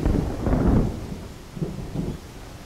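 Distant thunder rumbles as rain approaches outdoors, one longer low roll followed by two softer grumbles, with no voices.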